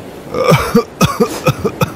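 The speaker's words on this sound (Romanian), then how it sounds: "Balena uriașă, iritată, a început să tușească și să strănute." A storybook sound effect of a giant whale coughing and sneezing, a series of loud, close, throaty hacking bursts repeating in quick uneven rhythm.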